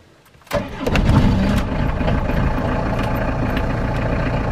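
A camper van engine cranks and catches after a short quiet pause, revving up loudly nearby before settling into a steady rumbling idle.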